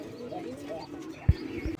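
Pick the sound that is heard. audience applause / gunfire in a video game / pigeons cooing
pigeons cooing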